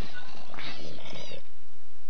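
A cat in the Minecraft video game gives a short meow-like cry blended with purring, brief and fairly close.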